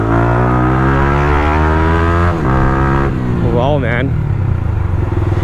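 A Yamaha R15 V3 motorcycle fitted with a chopped Akrapovic exhaust roars loudly up close, its pitch climbing through revs and dropping between gears, with a wavering rev near the end. A man briefly exclaims over the noise.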